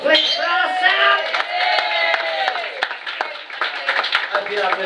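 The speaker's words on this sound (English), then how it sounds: "Big round of applause, please, for Sam." A crowd in a bar claps and cheers in a round of applause, with whoops and a loud voice talking over the noise throughout.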